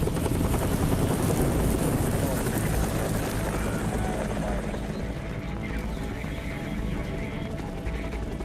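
A helicopter flying over a wildfire, its steady rotor roar and wash dense and loud throughout with no pause, while voices talk underneath.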